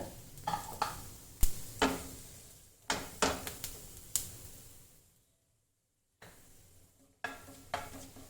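Cumin seeds crackling in hot coconut oil in a pan, loud irregular sizzling bursts and stirring scrapes that fade to near silence midway before resuming briefly.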